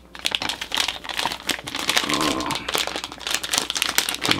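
Crinkling plastic packaging of an EK-Supremacy CPU waterblock being torn open and handled, a dense run of close, loud crackles and rustles lasting several seconds with no pauses.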